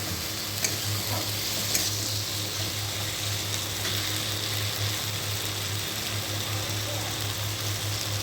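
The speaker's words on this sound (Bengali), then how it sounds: "নুনটা দিয়ে আমি আবারও ভালো করে কষে নেব যতক্ষণ না টমেটোটা গলে যাচ্ছে" A spice paste with tomato and salt is sautéed in a pan as the egg curry is cooked, producing a continuous sizzle with occasional spatula scrapes, even and moderately loud with no talk.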